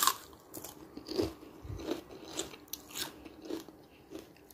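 Dried espada (beltfish) being bitten and chewed at a mukbang meal, giving a series of short crunchy bites and chews spaced roughly half a second apart, close and fairly quiet.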